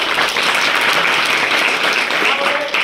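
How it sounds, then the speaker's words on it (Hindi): Schoolchildren clapping during a motivational talk at their school, a brief dense burst of many small hands filling the room, with some voices mixed into the clapping. "क्या बात है, ताली बजा"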